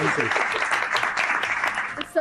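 Studio audience clapping for the winner of an eating game on a cooking show, a steady sustained round of applause mixed with cheering voices, loud and close throughout.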